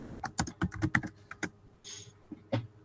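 Someone types a city name on a computer keyboard: a quick run of close, crisp key taps, a short pause, then a couple more taps, with no speech over them.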